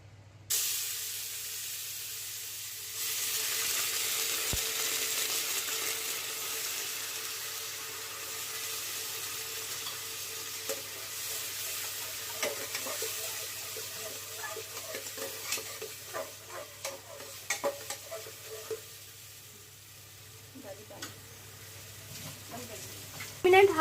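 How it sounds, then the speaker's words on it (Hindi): Ginger and garlic fry in hot oil over a high flame for restaurant-style mutton paya nihari, giving a steady sizzling hiss with light stirring scrapes throughout while someone talks over it. "हाई फ्लेम पे अदरक लहसुन को मैं भून लूंगी"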